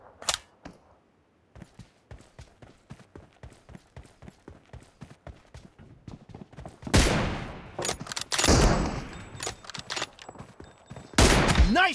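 In a shooting video game, rapid single gunshots crack in a steady rhythm, then give way to louder, denser bursts of heavy automatic fire near the end.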